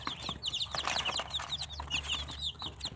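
Farm chicks, one of them limping, peeping continuously in quick high chirps close by, with light rustling and shuffling underneath.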